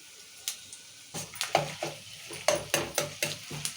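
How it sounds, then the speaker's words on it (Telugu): Ginger and garlic fry in hot oil for a masala paneer curry, stirred with a utensil scraping the pan in a steady series of clattering strokes over a soft sizzle, close and moderately loud. "ఇప్పుడు ఇలా అల్లం వెల్లిగడ్డ వేసుకుందాము"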